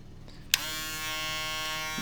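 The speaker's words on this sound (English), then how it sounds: "for my full shaver, we have the FX3" An FX3 electric foil shaver switches on with a sharp click and settles into a steady, close, high-pitched buzz that runs unbroken to the end.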